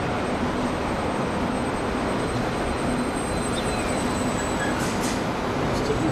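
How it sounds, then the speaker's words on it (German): An ICE high-speed train runs in the rail-building video game Transport Fever 2, giving a steady, continuous rushing rumble that holds at an even loudness throughout. "Das ist der ICE, muss anhalten."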